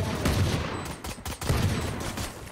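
Gunfire in the tactical shooter Valorant comes in a loud, rapid barrage of cracking shots, close and nearly continuous with a short lull in the middle.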